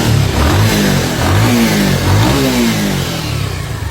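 A Bajaj Pulsar 150 motorcycle engine, freshly repaired after cylinder head work, revs up and down close by in loud repeated swells over a rough idle.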